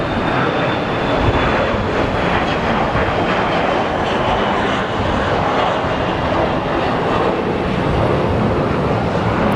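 Embraer jet at Sky Harbor Airport produces a loud, steady broadband engine roar with a faint high whine, sustained throughout without pause and heard from nearby.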